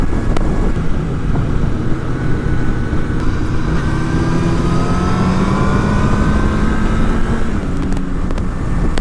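A Kawasaki ZX-10R sportbike accelerates hard on a road, its engine note climbing loud and close through rising revs, with steady wind roar underneath and no talk.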